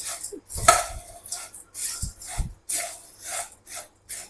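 Masala puffed rice tossed and mixed in a pan, giving rough, rustling scrapes and light clinks in uneven bursts, close and fairly loud with short pauses between strokes.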